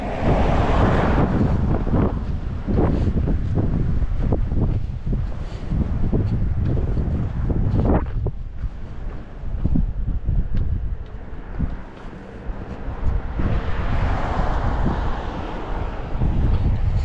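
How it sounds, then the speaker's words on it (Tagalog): Strong, cold gusty night wind in New Zealand roars and buffets the microphone continuously, a loud broadband rush with surging blasts and no speech. "Ang lamig, ang lakas pa ng hangin."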